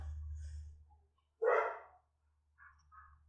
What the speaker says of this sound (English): The dogs are now in my room, so please forgive me if you hear any dog-related noises.